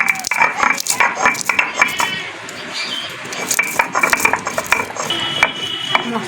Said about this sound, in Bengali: মশলাটা গুঁড়ো করা হয়ে গেছে